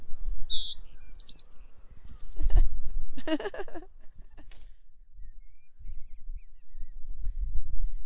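Birds chirp and trill in bright bursts early on in a dawn chorus, followed by quieter sparse calls over low background rumble.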